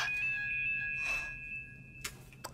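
A phone rings with a steady electronic tone held over about two seconds, followed by a few short clicks and rustles in a quiet room.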